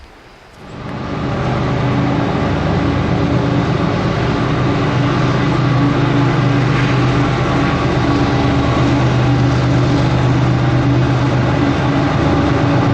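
A long, loaded CSX coal freight train rumbles past slowly in a continuous, steady drone, with a low engine hum and metallic rolling noise that rises in at the start.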